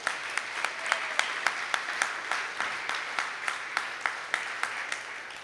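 Live audience applause for a cast and sound-effects performer at a radio theatre show, steady crowd clapping with sharp rhythmic accents sustained throughout, fairly close and full.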